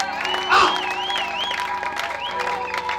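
Inside a church during a sermon, a congregation claps while a high, wavering ululation trills over sustained musical tones. The clapping swells briefly near the start.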